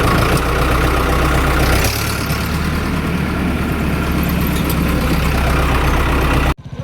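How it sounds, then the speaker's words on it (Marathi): A farm tractor hauling a loaded trailer idles with a loud, steady low engine rumble close by before driving forward and turning, the drone cutting off abruptly near the end, with no talk. "आता ट्रॅक्टर पुढं नेणार, वळवणार"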